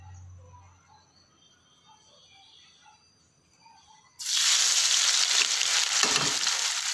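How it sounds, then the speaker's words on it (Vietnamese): Tofu pieces drop into hot oil in a pan and burst into a loud, steady sizzle that holds to the end, after a quieter stretch of faint kitchen background. "Sẽ bỏ tàu hũ vô chiên."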